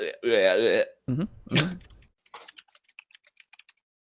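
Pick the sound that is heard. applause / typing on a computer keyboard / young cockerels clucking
typing on a computer keyboard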